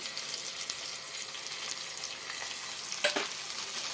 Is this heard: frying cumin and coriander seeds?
yes